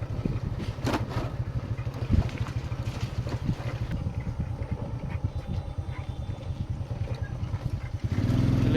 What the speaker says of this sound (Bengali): বিকেলের এই সময়টা চা বাগানের রাস্তা ধরে মোটর বাইকটা চালাচ্ছি বাপ বেটা মিলে